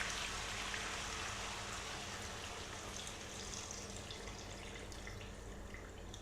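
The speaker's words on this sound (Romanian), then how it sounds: "Și acum punem apă." Tap water runs steadily into a pot for a country rooster stew, a continuous broadband splashing rush that stays loud and even from start to finish with no talking.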